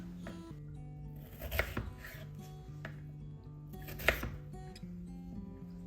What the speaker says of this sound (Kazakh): Дәл солай картопты да орташа формада турап шығатын боламыз.